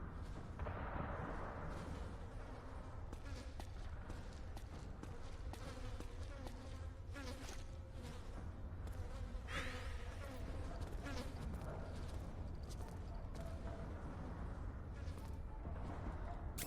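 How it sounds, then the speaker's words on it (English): Flies buzz continuously in Metal Gear Solid 4: Guns of the Patriots, a steady insect drone layered under game ambience with occasional sharp bursts and impacts. "the stress is going back up again because the flies are still here"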